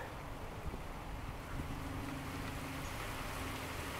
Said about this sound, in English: the wind is going to have a big effect.